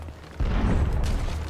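Ship cannons in Sea of Thieves fire at a kraken, one deep boom with a rumbling tail bursting in suddenly after a quiet start.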